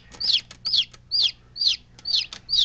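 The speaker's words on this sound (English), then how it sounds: "That was a silkie that hatched." A newly hatched silkie chick peeps close by in a regular series of six sharp, bright chirps at roughly half-second intervals, alone without any talking.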